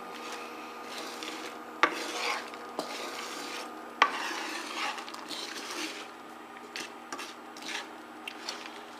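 Melting sugar for praline is stirred in a pan, giving a steady scraping and rubbing rhythm with a few sharp clinks against the pan.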